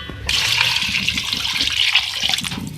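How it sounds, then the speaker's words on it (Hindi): Three glasses of water pour steadily into a pot of beef degi stew in a home kitchen, a close, continuous splashing rush lasting a few seconds. "इसमें मैं ऐड कर रही हूँ 3 गिलास जो है पानी।"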